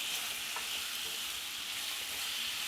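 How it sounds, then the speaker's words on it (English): Food frying in oil and butter in a pan for steak and potatoes, a steady close sizzle with faint stirring scrapes, no talking. "Give this a nice stir."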